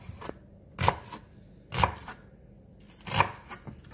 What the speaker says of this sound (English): And then, thinly slice it.